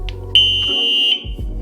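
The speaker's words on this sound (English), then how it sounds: "the alarm on the Sur-Ron kept going off" The alarm on a Sur-Ron electric bike lets out one loud, piercing, steady electronic tone for under a second, close by, between low rumbling sounds.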